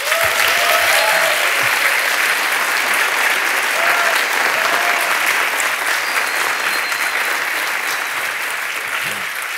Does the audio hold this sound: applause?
yes